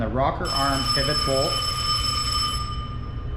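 A telephone rings in a workshop during Honda engine assembly, its bright repeating electronic tones sustained and fairly loud beneath a man's speech.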